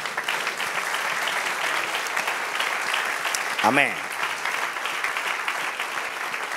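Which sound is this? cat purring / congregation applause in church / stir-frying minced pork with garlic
congregation applause in church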